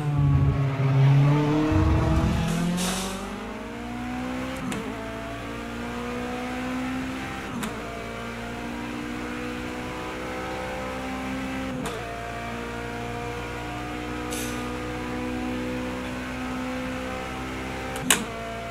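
A Toyota GT One race car in Project Cars 2 holds a steady high engine drone with periodic gear-change blips, starting louder then settling into a continuous in-car tone.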